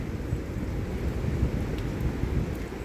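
Strong wind gusts from a heavy thunderstorm in southeastern Pennsylvania roar steadily into the microphone, a dense, constant rumbling buffet that swells slightly in places.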